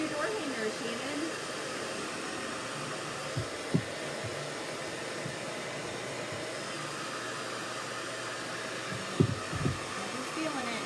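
A blow dryer on its hot setting runs without pause over a freshly painted birdhouse, its constant whooshing drone loud and near, with short bits of conversation poking through.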